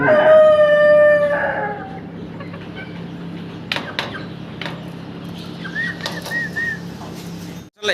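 Fancy chickens on a farm squaring off to fight, with wing flapping bursts and sharp scuffles following a loud opening call, moderately near over steady background hum.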